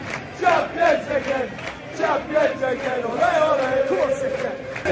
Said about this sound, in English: The Premier League anthem being booed by the Evertonians